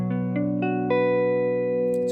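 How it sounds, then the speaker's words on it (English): A vintage Fender Jazzmaster electric guitar on its neck pickup plays a few plucked notes that build into a sustained, ringing chord, warm and steady, loud and alone with no talking. "I'll start with a neck pickup."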